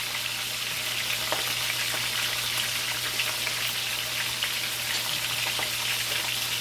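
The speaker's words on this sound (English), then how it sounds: "So just frying out codfish" Salt codfish fries in hot oil for Jamaican-style cooking, a loud continuous sizzle with crackling pops and spits throughout, close by and with no talk over it.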